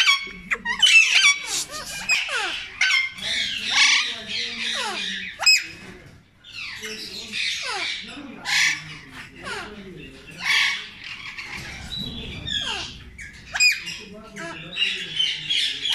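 Rubino rosella parrots in a breeding aviary squawk and squeak in busy, overlapping bursts, sharp and close, with a voice speaking briefly in the background.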